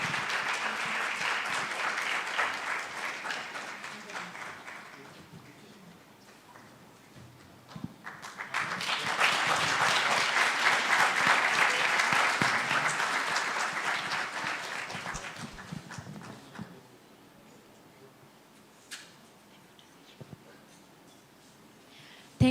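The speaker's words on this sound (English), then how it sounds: "Let's give her another round of applause." Audience applause after a woman's song performance at a youth event in Ghana, swelling twice in long sustained rounds of clapping, with a quieter dip between and a few scattered claps trailing off at the end.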